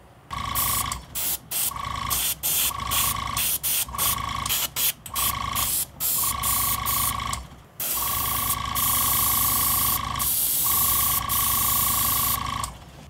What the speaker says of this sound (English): when it's time to spray some more